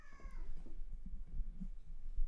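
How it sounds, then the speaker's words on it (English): Cats fighting indoors, heard as a brief strained yowl at the start, followed by low scuffling and thumping at moderate volume with no speech. "My cats are fighting."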